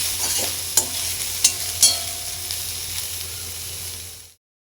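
Amaranth leaves and green chilies for thoran are stir-fried in a pan. A steady close sizzle runs throughout, broken by a few sharp scrapes of the spoon, until it cuts off abruptly.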